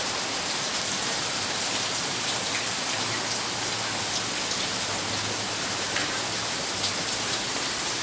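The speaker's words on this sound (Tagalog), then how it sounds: "Hapon na, pero malakas pa rin ulan." Heavy rain pours steadily in the afternoon over a small rural chicken farm, a dense, loud, unbroken hiss of drops drumming on surfaces with no voices.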